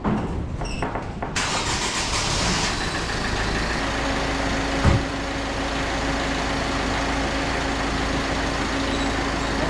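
A Ford Fiesta 1.4 TDCi diesel with an automatic gearbox fires up for the first time after an engine installation: a brief cranking burst, then the engine catches and settles into a steady, close, droning idle.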